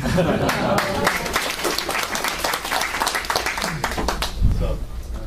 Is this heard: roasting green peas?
no